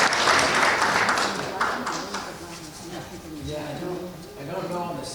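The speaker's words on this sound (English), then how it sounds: "another round of applause for Fuller Craft Museum" Audience applause in a hall at a holiday community event hosted at Fuller Craft Museum, a loud burst of clapping at the start that thins into scattered claps and murmuring voices, with some talk underneath.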